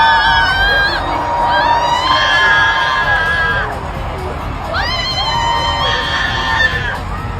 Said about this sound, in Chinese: 歡呼聲、尖叫聲像潮水一樣湧來，把現場的背景音樂都蓋得嚴嚴實實